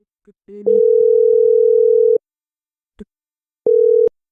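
Phone ringback tone heard while calling someone: a steady electronic tone held for about a second and a half, a short gap with a faint click, then a shorter repeat of the same tone, clear and close.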